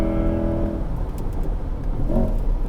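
Corvette E-Ray hybrid accelerating as its battery assist kicks in, a loud engine drone that shifts into a smoother whir, heard from inside the car.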